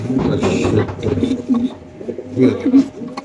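Racer pigeons coo in deep, repeated throaty bursts close by at a pigeon farm, with a person talking at the same time.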